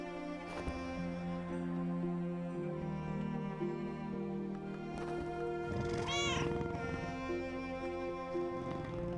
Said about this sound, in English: a pet cat.